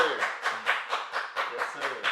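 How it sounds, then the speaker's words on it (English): One person clapping alone on a podcast set to welcome a guest, about ten sharp claps in a steady, slightly uneven rhythm, close and fairly loud. "Why am I the only one clapping?"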